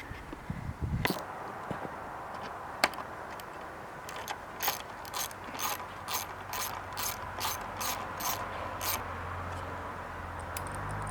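A ratchet clicks in quick bursts of a dozen or so rapid pawl clicks while removing a 10mm bolt on an ATV. The work sounds close up under faint background hiss.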